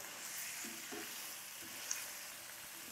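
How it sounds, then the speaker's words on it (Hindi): Chicken frying on a medium flame for Afghani chicken biryani, a faint, steady sizzle with a soft hiss running throughout, a few light stirring scrapes, and no voices. "चिकन डाल के इसे हम भूनेंगे तकरीबन 1-2 मिनट के लिए मीडियम फ्लेम पे"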